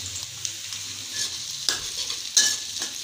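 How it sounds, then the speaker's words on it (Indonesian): Shallots and then garlic stir-frying in hot oil in a pan, a steady close sizzle with scraping stirs and a few sharper crackles, no voices. "kita masukkan langsung bawang merahnya. Tumis sebentar, agak wangi"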